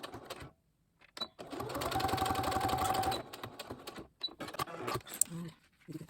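A sewing machine stitches over elastic on a three-layer washable fabric face mask, running in a steady close whir for about two seconds after brief handling noises, then stopping.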